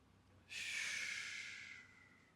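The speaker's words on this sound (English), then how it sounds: "Take a big breath here." A single deep inhale during a seated chair yoga twist, a soft airy rush of breath that starts suddenly, holds steady for over a second, then fades, close and quiet with no talk.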